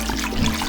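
Water drains from diced potatoes that have been soaking, poured off while making turkey relleno stuffing, a steady close rushing splash with no break.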